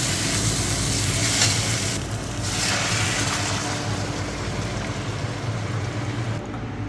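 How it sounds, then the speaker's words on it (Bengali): Steady, loud sizzling as gravy goes into a hot frying pan for a chital fish kalia curry, a continuous bubbling hiss with no voices. "আমি এখন ঝোলটাকে দিয়ে দেব।"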